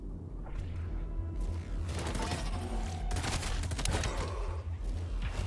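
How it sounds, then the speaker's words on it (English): Heavy bursts of rocket launcher fire and booming explosions from a Metal Eden game demo, loud and continuous with dense overlapping blasts and rumble throughout. "straight up rocket launchers"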